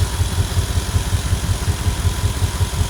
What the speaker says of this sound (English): That's the engine pulses.